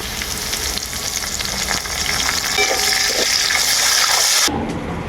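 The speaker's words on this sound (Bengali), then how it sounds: "ক্যারিয়া পাতা দেওয়ার পর অল্প নাড়াচাড়া করে নিয়েছি" Fresh curry leaves sizzle hard in hot oil with chana dal while being stirred for semolina pulao, a bright steady crackling fry close up that cuts off abruptly near the end.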